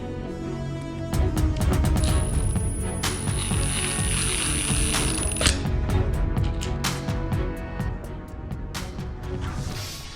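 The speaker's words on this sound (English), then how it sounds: "Then I get the correct size hex bit to drive in the wood inserts." A hex bit drives M5 wood inserts into a Milwaukee Packout case, heard as a close, rapid series of ratcheting clicks and mechanical buzzing bursts over roughly eight seconds, with no talking.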